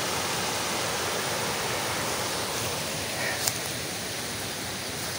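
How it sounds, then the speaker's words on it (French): A fairly large river with strong flow runs beside a mill, a loud, steady broadband rush of water filling the whole moment without a break. "On peut appeler ça une rivière, hein, parce que c'est pas un ruisseau"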